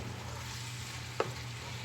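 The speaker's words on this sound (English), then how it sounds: "you can hear that the frying pan is starting to turn down a little bit on the sizzling volume" Meat sauce for spaghetti sizzles steadily in a frying pan, a continuous hiss with a low hum underneath and one brief clack partway through.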